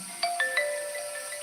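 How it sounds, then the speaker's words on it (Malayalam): A phone message notification tone plays during a live stream, three quick rising chime notes followed by a lingering soft tone, faint and alone with no talking. "phone message"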